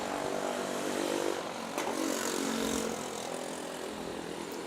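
Airliner on the Manila to Osaka departure at Manila's NAIA airport, a broad steady engine roar that holds loud for about three seconds and then eases slightly.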